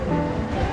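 Artificial rain pours steadily in an indoor exhibition raining area, a dense, continuous wash of falling water with no break over the short moment.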